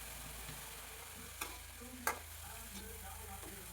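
Washed banana flower is stir-fried in a pan for a Kerala-style thoran with green gram, a soft, faint steady sizzle broken by a couple of sharp spatula clicks against the pan.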